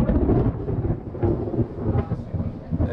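Deep rolling thunder rumbles close and heavy over a steady wash of rain, with low booms swelling and fading.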